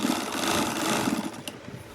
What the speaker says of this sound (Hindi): तो एक साइड हमने सिलाई लगा ली है